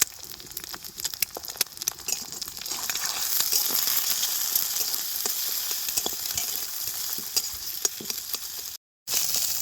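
Beaten egg scramble (bhujia) fries in white oil in a wok, with a steady, close sizzle dotted with crackles and pops throughout. The sound cuts out very briefly near the end. No one speaks.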